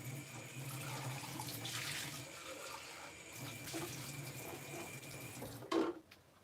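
Water pours from a cup into a sink after gouache painting, a continuous splashing rush at close range that swells and eases before ending in a brief clatter.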